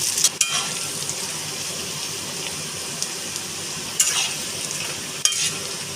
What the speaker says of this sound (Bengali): আলুটাকে আমি লাল করে ভেজে নেব,